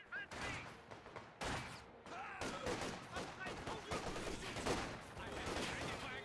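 Dense small-arms fire in the Company of Heroes 2 battlefield, with rapid overlapping bursts and shots continuing throughout and loud, busy combat noise layered together.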